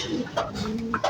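Racing pigeons coo in a loft, a few soft throaty calls close by, with faint murmuring in the background.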